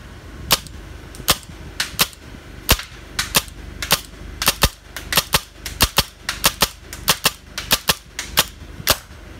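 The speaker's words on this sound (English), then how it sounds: "We're shooting it now with T15 straight out the box, standard barrel" An out-of-the-box T15 paintball marker with a standard barrel firing Valken Redemption paintballs: dozens of sharp, loud, close pops in quick, uneven bursts with short pauses between.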